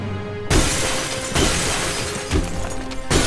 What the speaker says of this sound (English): Glass breaking!